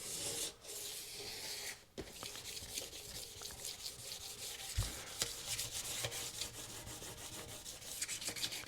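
Soft, steady rubbing and scraping of wet sanding on a 1975 Kawasaki KE125 motorcycle's metal fuel tank, removing light surface rust, continuous with a few brief pauses and small knocks.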